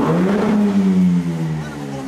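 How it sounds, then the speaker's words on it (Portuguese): A Jaguar F-Type sports car with a modified exhaust idles and revs nearby, a deep droning engine note that rises then slowly falls, loud and continuous. "Ficou com barulho de carro esportivo."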